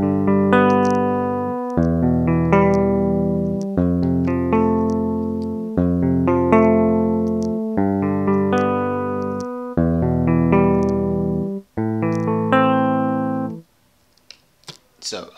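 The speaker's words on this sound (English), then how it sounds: "I selected the 80s electric, and I played a quick progression, and this is how it sounds like" Logic Pro's EXS24 80s electric guitar patch plays a MIDI chord progression: seven sustained, evenly paced chords ring out clearly with nothing else, followed by a few faint clicks.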